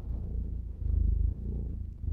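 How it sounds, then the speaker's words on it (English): Close, steady cat purring, a low continuous rumble pulsing with each breath in and out. "Danny, can you purr? Purr into this mic"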